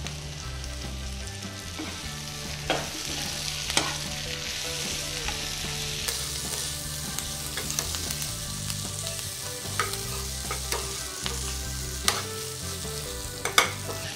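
Aloo gobi, potato and cauliflower, fries on a low flame, a steady close sizzle broken by sharp scrapes and clacks as a spatula stirs the pan now and then.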